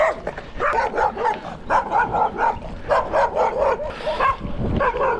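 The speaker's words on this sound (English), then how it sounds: "I'm quite stoked there was a fence between me and that dog." Repeated barking from a dog behind a fence, loud and close, in rapid bursts that keep going with short gaps, heard along a rural canal route with fresh earthworks while bikepacking in Azerbaijan.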